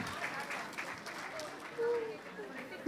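An audience at a school language association's annual function claps in a diffuse, steady patter of applause, heard faintly under a speaker addressing the crowd.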